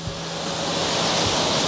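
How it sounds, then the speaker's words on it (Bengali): Khandadhar waterfall in monsoon, water plunging about 800 feet, heard as a dense, steady roar of rushing water with no voices. "800 ফুট উচ্চতার থেকে তীব্র গতিতে জল নিচে পড়ে"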